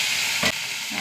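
Onion and chilli sizzling in hot oil, a steady bright hiss and crackle of frying with a short louder burst of spatter partway through, no talking.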